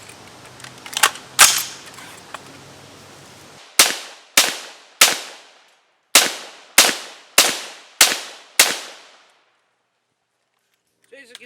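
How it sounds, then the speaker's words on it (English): Gunshots fired downrange at a shooting range, two quick reports followed by a steady string of seven sharp cracks about a second apart, each with a short echoing decay, loud and close, then silence. "I'm going to throw a few rounds downrange just real quick."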